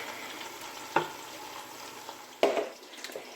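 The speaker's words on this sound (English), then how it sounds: "So whilst this is frying" Steady sizzling of food frying in a pan while cooking Ayamase, with a couple of sharp clinks or stirring knocks standing out above the hiss.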